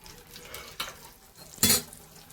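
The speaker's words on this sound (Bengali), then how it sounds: "আমার ধোকা ভাজাটা এইদিকে এক পিঠ ভাজা হয়ে গেছে" A pea dhoka lentil cake fries in a pan with a quiet, close sizzle, marked by a couple of sharper bursts as it is moved or pressed.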